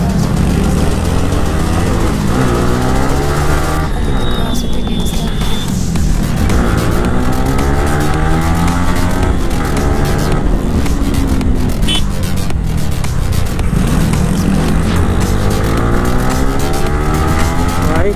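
Vehicles race and weave through heavy traffic in an industrial area, with engines revving up and down in rising and falling sweeps and a brief tire squeal, loud and continuous throughout.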